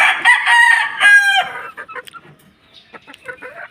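A white Kelso chicken gives a couple of loud, drawn-out squawking calls up close, then a run of short, softer clucks.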